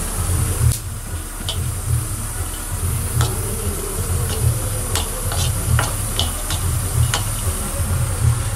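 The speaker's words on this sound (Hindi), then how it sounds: "ये देखो मेरा मेवा फ्राई हो रहा है।" Dried fruits and nuts frying in desi ghee in a pan, a steady close sizzle with occasional stirring clicks and scrapes throughout.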